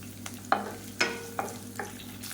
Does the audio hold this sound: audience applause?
no